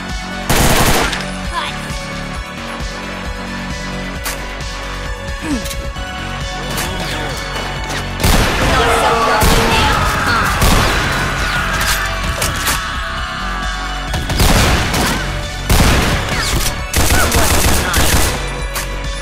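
A howitzer in a Doom mod fires repeatedly, each loud blast sharp and booming, amid cluttered clattering and impact noise of ongoing combat.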